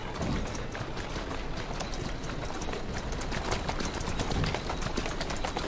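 Steady clip-clop of a mare's hooves at a walking pace in Assassin's Creed Syndicate, continuous and fairly close, with no voices.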